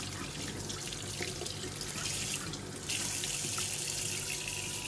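A kitchen tap runs steadily as a cured ham is rinsed under the stream, a soft, continuous splashing with no talk.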